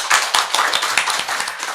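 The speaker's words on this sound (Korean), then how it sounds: "그래서 격려 박수 하겠습니다." A church congregation at a Friday worship service claps in encouragement, a short close burst of brisk, slightly uneven hand claps with no voices.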